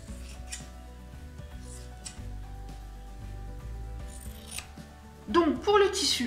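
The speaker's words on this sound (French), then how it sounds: "je vais bien sûr couper en une fois mes deux rectangles" Scissors cutting through fabric folded in two to make a pair of rectangles, quiet close snipping and rubbing with a brighter crisp burst of cuts near the end.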